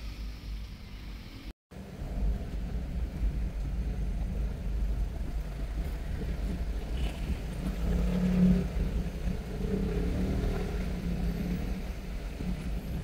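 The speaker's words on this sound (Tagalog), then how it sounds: "Traffic pa rin, traffic." Steady low engine rumble from a car crawling through heavy city traffic on EDSA in Metro Manila, a continuous idling drone with faint surrounding road noise and a brief dropout near the start.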